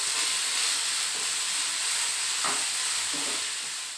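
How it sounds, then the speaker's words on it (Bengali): Bottle gourd peel fries in a pan with salt and turmeric, giving a steady, close sizzle and hiss throughout with faint stirring scrapes. "এবার ভালো মতো এটাকে ভেজে নেব।"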